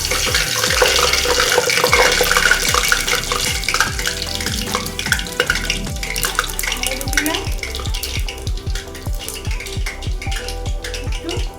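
Fennel seeds sputtering in hot mustard oil, a dense close crackle of sharp pops over a continuous sizzle that starts loud and eases off slightly over time.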